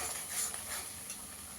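Spices sizzle and are stirred in hot oil with Kashmiri chilli powder for a cauliflower korma, a soft, steady frying hiss with faint scraping, close and without talk.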